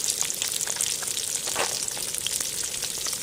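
Pieces of fermented fish (pla som) fry in hot oil with a steady, dense sizzle and crackle that continues without a break, with no voices.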